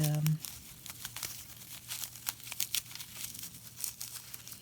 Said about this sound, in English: This one is just taking off the sphagnum moss is probably easier than trying to cut through it.